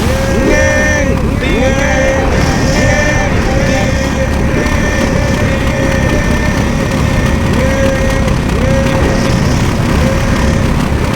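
A loud, steady motorbike engine drones continuously with repeated revving swells, synthetic-sounding game audio from Garry's Mod, filling the whole stretch.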